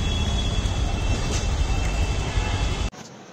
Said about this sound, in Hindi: Vadodara railway station